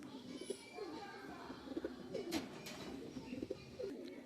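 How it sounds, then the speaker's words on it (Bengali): A male Omani pigeon gives soft, low, rolling coos in repeated phrases, moderately distant, over a faint murmur of people and surroundings. "দেখেন পিছনেরটা ওমানের একটা নর কবুতর।"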